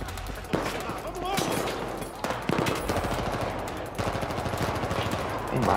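Automatic weapon fire in the shooter Battlefield 4, set in Singapore, rattling in rapid bursts with occasional louder single shots against a busy battlefield background.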